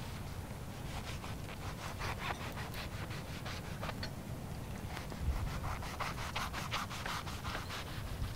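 A knife saws lengthwise through shibata bread for a shrimp and cheese sandwich, with a quick run of rhythmic, scratchy strokes close by and no talk.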